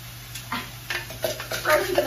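Frozen corn being stirred in a cup, its kernels rattling and scraping in short rough bursts that grow busier toward the end, close and moderately loud.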